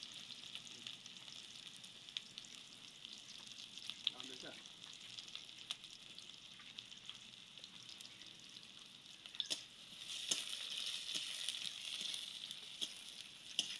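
Onion and chopped garlic fry in hot mustard oil for a Bengali dal tempering, giving a soft, steady sizzle with faint stirring clatter and a brighter burst of crackling near the end.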